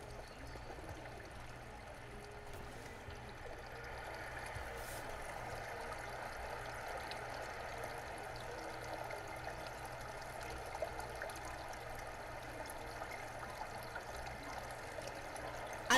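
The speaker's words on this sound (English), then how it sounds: "This water noise." Flowing water ambience inside the game Garry's Mod, a steady trickling stream sound that holds at an even level throughout, with faint background noise beneath it.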